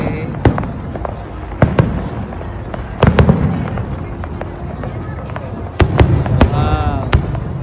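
Fireworks bang repeatedly at irregular intervals with sharp booms and crackling at the Calgary Stampede, while a crowd murmurs and people talk nearby.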